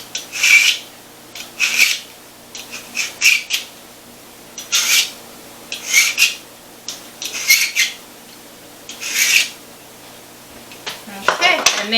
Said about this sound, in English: this is a knife sharpener that we got at Walmart